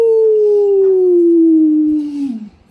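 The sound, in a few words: jackal howling sound effect in horror audio story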